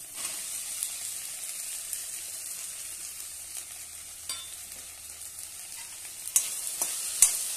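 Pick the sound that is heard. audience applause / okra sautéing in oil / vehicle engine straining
okra sautéing in oil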